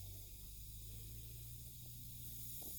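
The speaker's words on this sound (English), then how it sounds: "Can you hear that and see it? It's fizzing at the bottom." A craft mixture fizzes in a container, a steady soft hiss of bubbling close by, continuous and faint with no talking.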